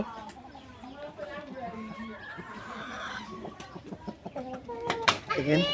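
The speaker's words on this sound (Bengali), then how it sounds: "দর্শক আজকে চলে আসলাম টাইগার মুরগির খামারে" Tiger breed chickens cluck and squawk on a chicken farm in Ishwarganj, Mymensingh, with several birds calling irregularly amid steady barnyard background and a louder call near the end, while a person talks over them.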